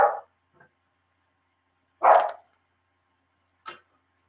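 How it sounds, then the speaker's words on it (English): Dogs bark outdoors in three separate bursts: a short bark at the start, a louder one near the middle, and a fainter one near the end, with quiet gaps between them. "it's that time of day, so the dogs will bark"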